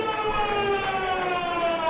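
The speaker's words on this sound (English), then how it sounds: "And that is the siren." The siren ending a quarter at a TIO NTFL Australian football match, Wanderers against Waratah, sounds as a loud, sustained tonal wail that holds steady throughout, with no talk over it.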